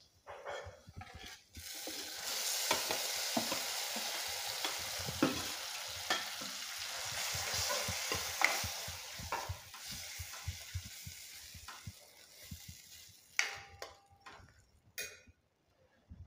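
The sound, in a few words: chakvat greens added to pan and stir-fried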